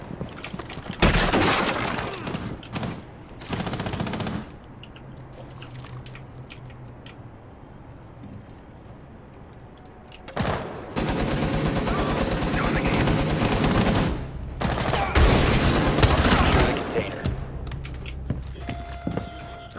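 Bursts of automatic gunfire in the video game Rainbow Six Siege, several loud sustained volleys separated by quieter gaps, with in-game ambience between the bursts.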